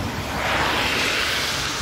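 Wind and sea waves at a port near a fish market on a rainy morning, a steady broadband wash of surf and gusty microphone wind filling the whole stretch with no talk.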